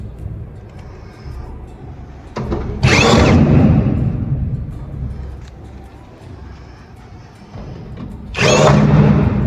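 A power tool drives bolts into the roof panel of a two-door wardrobe in two loud, sustained whirring bursts separated by quieter handling noise.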